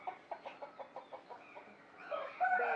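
A fighting rooster at a cockfight clucks in a quick, even series of short notes, followed by a louder, busier burst of calls near the end, with no talking.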